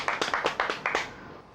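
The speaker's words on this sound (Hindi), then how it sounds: "तालियां।" About seven quick, fairly soft hand claps in a loose rhythm, set in a Hindi TV comedy scene about a protest against dogs, ending in a quiet tail.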